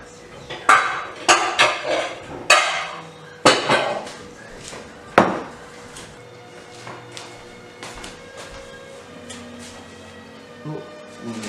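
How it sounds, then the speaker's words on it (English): Dishes and a big bowl clatter in a kitchen, a burst of sharp clanks and knocks close by, then fewer, quieter taps trailing off. "So first of all, I'm going to get a big bowl."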